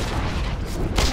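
A tower destroyed in the Dota 2 video game, a loud close booming crash that rumbles for about a second and swells at the end.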